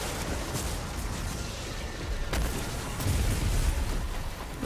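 Chain explosions in the Destiny 2 video game, a dense rumbling wash of overlapping blasts and bursts, loud and continuous with a swell of heavier booms toward the end.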